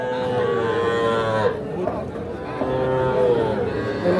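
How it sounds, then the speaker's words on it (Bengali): Young bull calves moo repeatedly at a busy cattle market, several long drawn-out calls overlapping near and loud, with faint crowd chatter underneath. "সবই ষাঁড় বাচ্চা।"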